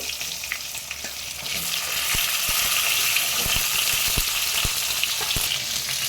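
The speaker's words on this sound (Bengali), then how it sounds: "এবার এই তেলেই বেগুনগুলো ভেজে নেব পিস পিস করে কেটে রেখেছিলাম ভালো তেলে ভেজে নেব" Eggplant pieces frying in hot oil just used for fish, a steady loud sizzle that swells after the first two seconds, with occasional utensil taps and stirring knocks.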